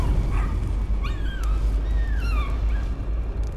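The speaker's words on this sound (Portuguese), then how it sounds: "Ai, tem alguém chorando. É o Rex!" A dog whimpers and yips in the Layers of Fear video game, a series of short rising and falling whines over a low steady hum, fairly close and with no talking.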